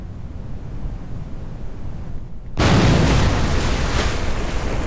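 A rocket is destroyed in Kerbal Space Program: after a low, windy rumble, a sudden loud broadband explosion bursts in and holds as a sustained roaring blast to the end.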